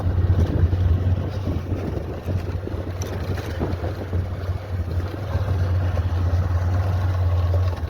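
Motorbike engine droning steadily while riding, a low continuous hum buried under heavy wind rush against the microphone, with no talking.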